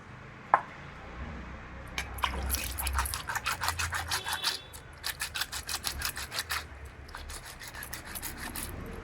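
Fish for a Kerala-style curry being cleaned by rubbing and scraping on a stone outdoors, a rapid rhythmic rasping in quick bursts after an initial knock and a few scattered taps, close and moderately loud.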